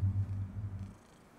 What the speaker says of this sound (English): I have a cat here. You might be able to hear him.